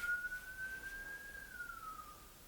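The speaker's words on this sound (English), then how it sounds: "there's a fucking siren outside." A siren wails faintly outdoors with one thin, rising then falling tone that holds steady against a low background hum, with no voices.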